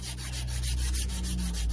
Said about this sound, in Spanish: le saco una tirita a esta lámina delgadita a lo largo que me permita lijar un poquito